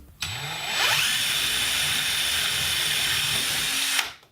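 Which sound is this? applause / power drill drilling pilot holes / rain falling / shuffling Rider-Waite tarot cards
power drill drilling pilot holes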